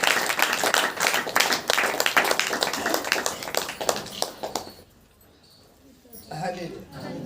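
A worship congregation claps hands in praise at a church prayer meeting, a loud burst of rapid clapping that thins out and fades to near quiet, then picks up softly again near the end.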